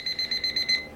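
Timer alarm beeping: six quick, evenly spaced high-pitched electronic beeps, loud and close, stopping abruptly within a second.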